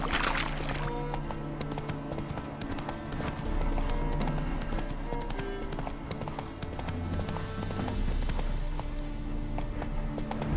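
Geralt's horse Roach in The Witcher 3, spooked by ghosts: steady clip-clop of hooves under a dense game soundscape with music, and a brief whinny near the start.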